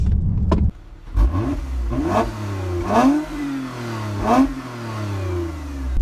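A 2020 Toyota Avalon TRD's V6 revs up in repeated bursts, the exhaust note rising and falling with each pull before settling into a steady drone.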